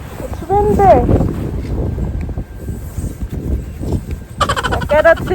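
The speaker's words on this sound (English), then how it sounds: "It's windy." Strong blizzard wind during an arctic winter storm roars and buffets the microphone as a low, rough rumble, with people talking over it.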